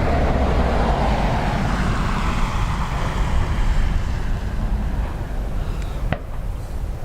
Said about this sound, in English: Oh, private jet.